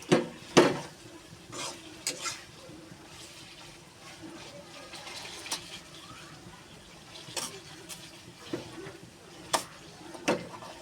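Beef bhuna frying in a pan gets stirred with a spoon, giving irregular knocks and scrapes against the metal over a soft, constant sizzle, close by with no talk.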